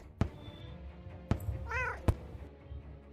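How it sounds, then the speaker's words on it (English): Meowing from a dinosaur creature in the video game Terraria: a short run of rising and falling cat-like mewing in the middle, between sharp thuds, with no talking. "look at the fucking dinosaur meowing"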